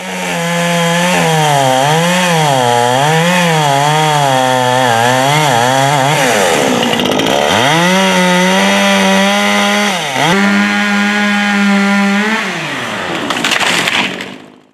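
Chainsaw felling a Bradford pear tree, its loud engine rising and falling in pitch as the cut proceeds, with a brief drop near the middle and near the end, running steadily throughout without speech.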